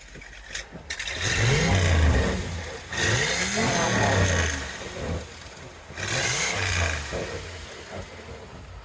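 A 1963 Chevrolet Corvette engine revs up three times in loud bursts, each rising then falling back to a throaty idle, with no talking.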